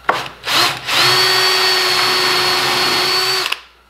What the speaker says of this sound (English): I'm just doing enough to just barely cut into that with the beveling bit.